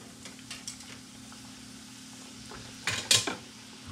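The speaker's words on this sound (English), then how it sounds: "gonna keep stirring them around a little bit so they'll brown evenly" Panko-breaded catfish pieces frying in vegetable oil at 340 degrees, stirred around in the pot: a soft, steady sizzle with a few light scrapes and clinks, then a brief louder burst of bubbling and utensil contact near the end.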